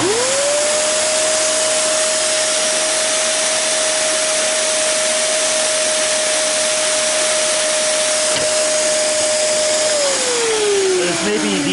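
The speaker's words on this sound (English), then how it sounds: "This may be the worst vacuum I've tested on camera for you guys." A Kenmore canister vacuum cleaner spins up and runs with a loud steady whine and rushing airflow for about ten seconds, then winds down with a falling pitch.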